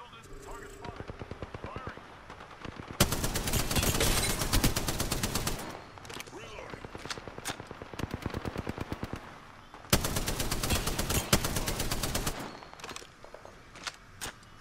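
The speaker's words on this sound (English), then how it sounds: "Target spotted. Firing." Rapid automatic gunfire from the Apex Legends battle royale, coming in long sustained bursts with brief gaps, loud and close, with game voice lines heard over it.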